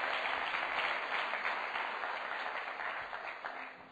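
Church congregation applauding during a Portuguese-language sermon, a steady, fairly distant wash of many hands clapping, gradually fading over about four seconds.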